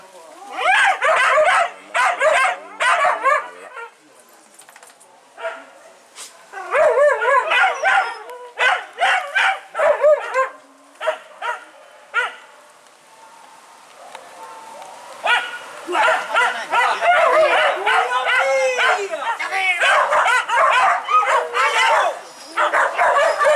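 Hunting dogs bark and bay in the rain on a boar hunt, loud clustered volleys of barks and yips close by, broken by short pauses, over soft rainfall.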